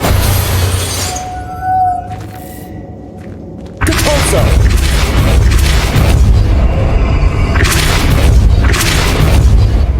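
Spell blasts and shattering impacts from the Confringo fire spell in the Hogwarts Legacy video game, a loud burst at about four seconds followed by sustained rumbling booms and crackling debris.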